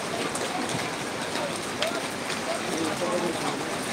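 Steady, dense hiss of heavy rain pours down without a break at Dhaka New Market, with faint murmuring voices in the background.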